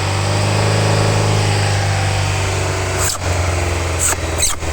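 An engine held at raised revs, around 2000 to 3000 rpm, during an intake and EGR cleaning job drones loudly and steadily close up, with a couple of short dips and clicks near the end.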